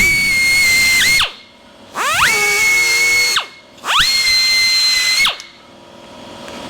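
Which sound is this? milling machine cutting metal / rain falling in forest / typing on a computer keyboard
milling machine cutting metal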